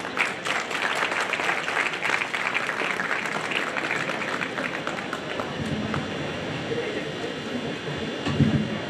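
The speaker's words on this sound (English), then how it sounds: "Let's give a round of applause to welcome our chief guest." Graduation day audience at HKBK College of Engineering in Bangalore applauding to welcome the chief guest, sustained clapping across the hall that slowly thins, with a louder burst near the end.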